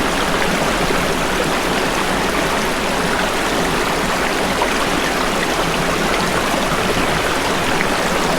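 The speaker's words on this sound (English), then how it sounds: "listen to the lull of the gently flowing water" Spaas Creek flowing gently beside a campsite, a steady, close, continuous rush and babble of water with no voices.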